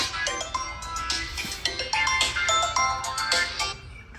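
A phone ringtone plays a bright, repeating electronic melody, loud and close, with regular pulsing notes and no talking.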